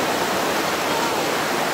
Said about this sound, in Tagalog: Tampisa ho sa ilog, part 2.